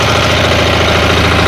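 An MB-12DE diesel walk-behind tractor with a 12 hp engine idles close by, a loud, steady, knocking chug with even rapid pulses and no talk.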